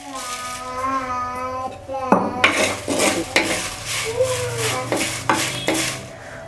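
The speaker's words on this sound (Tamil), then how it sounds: "இந்த வடமிளகா வந்து நல்லா வதக்கணும்" Dried red chillies tossed in a hot pan for a traditional dried-fish curry: a spatula clatters against the metal with a steady sizzle, beginning after a brief voice and carrying on in repeated scraping strokes.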